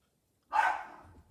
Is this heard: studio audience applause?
no